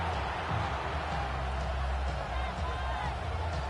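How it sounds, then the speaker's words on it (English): Stadium crowd in the Madden 26 football video game, a steady, dense roar that swells slightly as play resumes, with commentary audible over it. "The crowd cranking it up another notch before 3rd and long."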